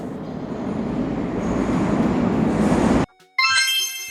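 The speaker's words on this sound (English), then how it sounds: "A commuter train carries workers and students daily." A commuter train rumbles past loud and close for about three seconds, a steady broadband roar of wheels and rails, then cuts abruptly to near silence before a bright, tonal burst resumes.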